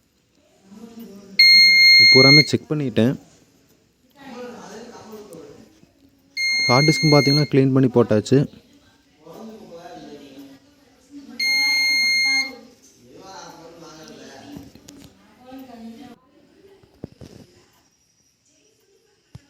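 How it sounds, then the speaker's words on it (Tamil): A CCTV DVR with no hard disk detected sounds a loud, repeating electronic alert beep in several sustained bursts, with someone speaking between and over the beeps. "அந்த பீப் சவுண்டு வந்துட்டே இருக்குது"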